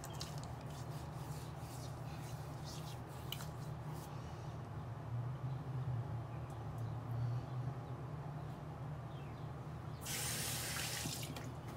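Tap water running into a sink while the face is wet before shaving, a steady continuous stream with soft splashes and hand rubbing, a louder hiss of water near the end, no talk.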